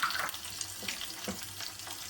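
Dry red chillies and finely chopped green chillies sputtering in hot oil for a tempering, a dense continuous sizzle with crackles close up and no voices.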